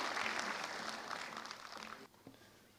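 Audience applause welcoming a speaker onto the stage at an entrepreneurship talk, steady dense clapping that fades and drops off abruptly near the end, leaving a few scattered claps.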